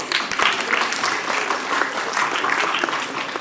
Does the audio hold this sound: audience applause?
yes